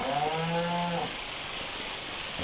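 Cows moo in a farming video game set on a smallholding with cow sheds and hay, one clear drawn-out moo that fades after about a second, leaving a steady game ambience with no talk.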